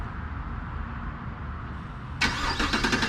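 A stock Chevrolet Camaro SS triggered by remote start: a low rumble gives way to the engine catching and firing into a loud, throaty idle near the end, with no talking.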